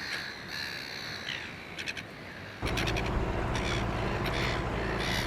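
Seabirds at an extensive rookery on a lighthouse island give harsh, crow-like calls in short repeated bursts, faint at first, then a louder steady wash of wind or surf joins the cries.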